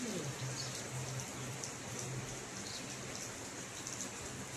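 Steady morning rain falls as an even, soft wash of broadband patter, heard alone at low level without any thunder.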